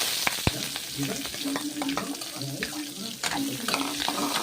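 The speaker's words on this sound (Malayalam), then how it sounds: "അപ്പോൾ നമ്മൾ അവിച്ച ചക്കക്കുരു ചെറുതായിട്ട് അരിഞ്ഞ് വെച്ചിട്ടുണ്ട്. ഇത് നമുക്ക് എണ്ണയിലോട്ട് ഇട്ട് കൊടുക്കാം." Chopped boiled jackfruit seeds frying in hot oil, giving a dense crackling sizzle nearby with scattered stirring clatters and a few sharp utensil knocks.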